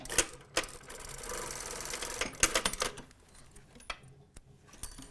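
A sewing machine stitches across the folded ends of a vest in a few quick, close bursts, with brief pauses and small clicks between runs.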